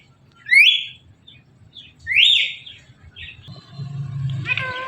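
A talking parrot gives two rising whistled calls, then a rougher, noisier call with a low hum underneath, loud and close.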